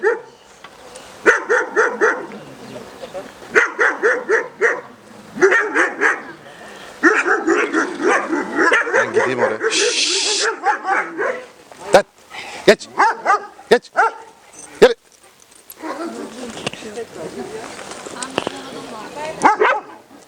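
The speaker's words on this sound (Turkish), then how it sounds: "Sadece havlayan bir köpek." A dog barks repeatedly in close, sharp bursts with short gaps, while people talk nearby between and over the barks.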